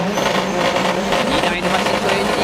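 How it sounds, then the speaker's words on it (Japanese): Two Nissan S15 Silvia drift cars roar loudly at a D1GP event at Autopolis, their engines blending with tire squeal in dense, continuous noise while a commentator talks over them. "2台のマシンのエンジンが今高鳴る S15 シンビア同士の対戦"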